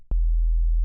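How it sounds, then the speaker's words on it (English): A Serum synth sub bass with added harmonics enters after a short click and holds as a loud, steady, deep sine-like tone, ending in another click. "just a sub. But because of the harmonics, it already sounds a bit fatter than usual"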